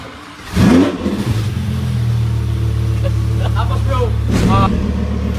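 A McLaren supercar starts with a loud burst, then settles into a steady, deep idle, with a second swell near the end; voices speak over the engine throughout.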